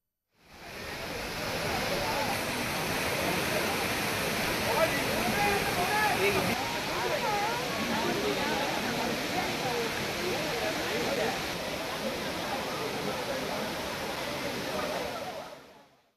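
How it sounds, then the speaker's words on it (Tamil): Kiliyur waterfall gushing heavily after continuous rain, a dense, steady roar of pouring water that fills the whole stretch, close and loud with no break. "கிளியூர் நீர்வீழ்ச்சியில் தற்போது தண்ணீர் ஆர்ப்பரித்து கொட்டுவதால்"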